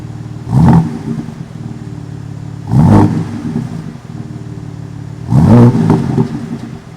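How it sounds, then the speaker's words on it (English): A 2022 BMW M4 Competition coupe with a performance exhaust revs three times in sharp, loud bursts, each blip rising and falling back to a steady burbling idle as the exhaust mode switches over. "I'll let you listen to the changeover here"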